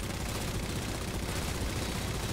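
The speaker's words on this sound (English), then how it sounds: "Keep shooting the Wardog." Dense, continuous gunfire from a Halo match aimed at a Warthog vehicle, a steady rapid rattle of shots that stays loud and unbroken throughout the brief burst.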